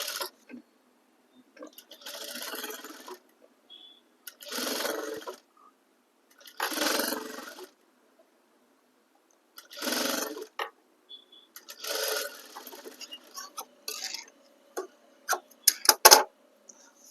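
Sewing machine stitching net onto the back neck of a blouse, running in several short bursts of rapid clatter separated by pauses, close up, with a few small clicks and handling sounds between runs and no speech.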